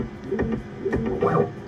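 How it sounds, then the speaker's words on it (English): A 3D printer printing a benchy, its stepper motors whirring in short rising and falling tones with a few soft clicks, close and alone over about two seconds. "So, let me print a benchy."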